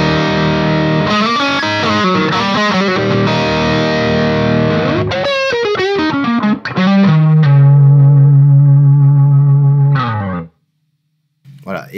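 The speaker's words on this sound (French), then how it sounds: "La distorsion est là." An electric guitar runs through a pedalboard with a distortion effect, playing loud, saturated chords and notes. A long sustained note ends in sudden silence, then a brief final strum.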